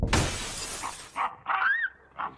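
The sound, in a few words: skylight (Velux) window glass shattering, audio drama effect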